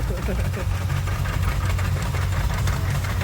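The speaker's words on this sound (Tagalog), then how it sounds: "dumating yung motor ni Bossing dito" A motorcycle engine idles close by with a steady low rumble and a rattling, coin-like knock running through it, while someone talks over it.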